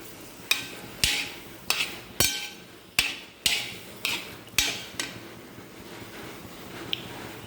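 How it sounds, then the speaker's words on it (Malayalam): A spoon stirring a sweet jackfruit-seed mixture with cumin and dry ginger in a pan gives a series of sharp, evenly spaced clacks, each trailing off briefly, close and clear with no talking. "അതുകൊണ്ട് അങ്ങനെ കുറച്ച് സമയം ഇളക്കി കൊടുക്കാം."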